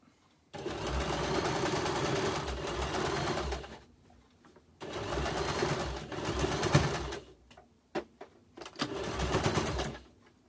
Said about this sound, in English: I'm sewing backwards now.